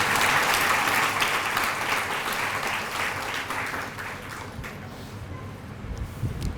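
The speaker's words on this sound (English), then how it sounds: "It's fine if you want to clap." An audience at a spiritual lecture on Prabhupada claps in a steady mass of applause that slowly thins out, heard alone and fairly distant.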